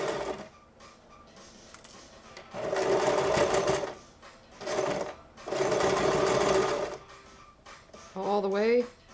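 A sewing machine stitches an ear saver, running in short bursts and longer loud runs separated by pauses, with quiet speech around the stitching.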